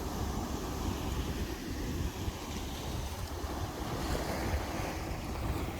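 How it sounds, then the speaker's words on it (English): Ocean waves washing onto a shoreline during a morning fishing outing: a steady, loud roar of surf with wind buffeting the microphone, continuous with no talking. "Enjoying the nature, the sounds of the waves, tranquility of the ocean."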